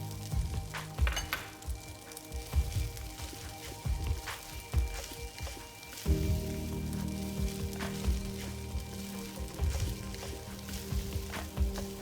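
Kimchi fried rice with kimchi juice, salt and spring onions frying in a pan, a crackling sizzle with spattering pops and stirring scrapes that grows fuller partway through, no talk.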